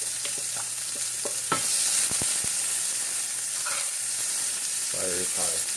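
Spanish onions fry over high heat in a pan with a continuous sizzle, punctuated by a few stirring clicks and scrapes, while a voice talks briefly near the end.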